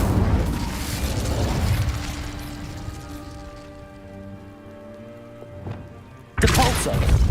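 A fire spell cast in Hogwarts Legacy roars up as a loud burst of crackling flame and rumble, dying away into quieter hissing before a second sharp blast erupts at the end.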